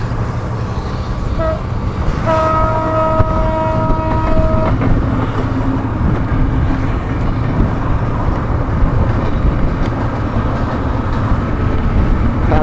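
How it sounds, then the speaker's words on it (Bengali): A train runs steadily alongside the Naogaon–Natore highway, a loud continuous rumble of wheels and cars with a brief sustained horn tone partway through, recorded from a moving vehicle on the road. "আমার বাম সাইডে ট্রেন যাইতেছে"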